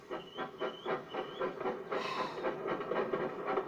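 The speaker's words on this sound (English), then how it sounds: "Apparently the chuffing stayed the same when he went faster." Thomas the Tank Engine steam locomotive chuffing in a steady rhythmic beat, with hiss and rail clatter over a continuous rumble, fairly close.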